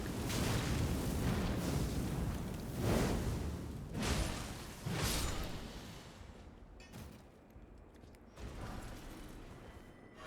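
Fire attacks in Elden Ring: Shadow of the Erdtree erupt as a series of soft, rushing whooshes and muffled booms. The bursts come in a rough rhythm at a fairly low volume, then fade toward the end.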